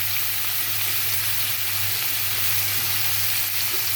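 Vegetables hit a pan of frying prawns and sizzle in a steady, even hiss that carries on unbroken, close and fairly loud, with a low electrical hum underneath.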